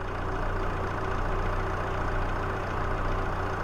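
A tractor engine idles steadily in Farming Simulator 22 on an Alpine farm map, a continuous low mechanical hum with a faint tonal whine, holding even and unchanging throughout with no talk over it.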